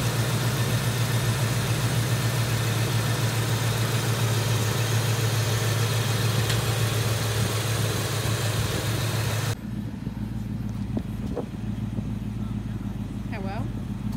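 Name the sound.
car engine idling with an exhaust leak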